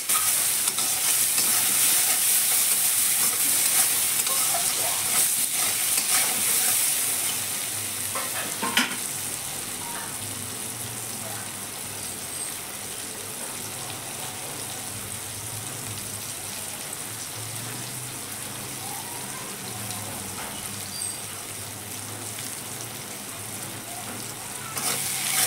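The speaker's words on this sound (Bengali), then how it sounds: "আন্দাজ মতো লবণ, আন্দাজ মতো হলুদ দিয়ে আলুগুলোকে লাল লাল করে ভাজবো।" Potatoes seasoned with salt and turmeric frying in a pan give a continuous dense hiss and sizzle, louder at first and then settling to a steady crackle, with occasional stirring scrapes.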